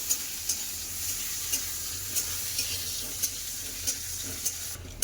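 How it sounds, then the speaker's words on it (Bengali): Onion, dried red chillies and panch phoron fry in hot oil for dal tempering, a steady close sizzle with sharp periodic clinks of a spatula stirring about every half second. "পেঁয়াজ লঙ্কা পাঁচফোড়ন খুব ভালো করে ভাজা হয়ে গেছে"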